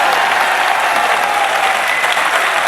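Dense, steady applause from a mushaira audience at an AMU Aligarh book release ceremony, many hands clapping together at close range without a break for the whole stretch.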